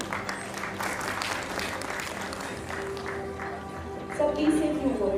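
An audience at a national entrepreneurship summit award ceremony claps in sustained applause that grows louder near the end, with a voice speaking over it.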